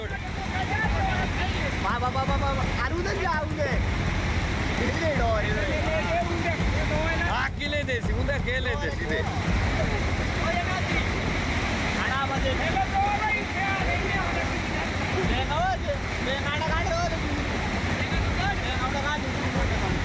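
A rain-swollen river in flood in Himachal rushes loudly and steadily, its broad roar persisting under frequent voices talking throughout.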